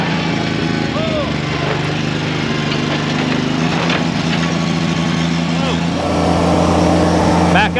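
A loud tractor engine roars continuously nearby, held at high revs with its exhaust underwater in a pond, a rough, throbbing drone throughout.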